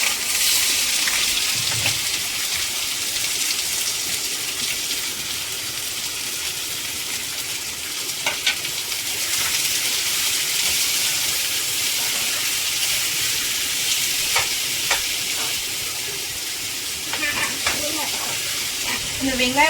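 Chopped onions frying in hot oil with bay leaves, a steady bright sizzle and hiss that runs the whole time, with a few small clicks and stirring taps.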